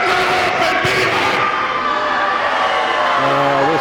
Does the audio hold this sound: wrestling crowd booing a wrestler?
yes